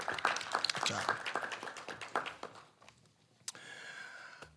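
Scattered applause from a school board meeting audience for students, quiet and fairly distant, clattering for a few seconds before dying out into near silence.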